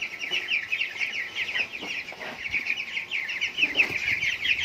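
Backyard hens cluck close by in a steady, busy chatter, and soft scratching and pecking sounds come from below.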